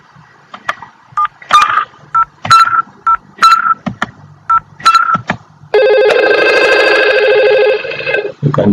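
A Cisco IP phone sounds a series of short, crisp dialing tones at close range, followed by a sustained, bright electronic ring lasting a few seconds.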